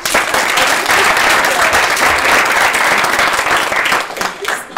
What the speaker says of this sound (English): we can clap for Vicki.